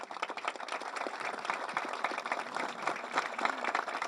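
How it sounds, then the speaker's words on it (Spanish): An audience in Paysandú claps and applauds at a public gathering, dense steady clapping from many hands with a few scattered voices, fairly close and lively throughout. "pido un aplauso"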